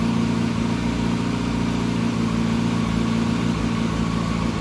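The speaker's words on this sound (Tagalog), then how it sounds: "Stable na yung RPM niya" A car engine idles at a steady, stable RPM after a fuel pump hiccup, a constant low hum with even harmonics, close and alone.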